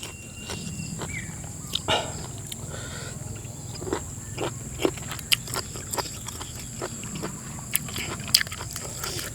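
Crisp, irregular crunching and clicking bites of sweet shellfish and shrimp, close to the mic, scattered over a quiet steady background with no talking.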